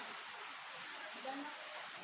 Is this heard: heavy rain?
yes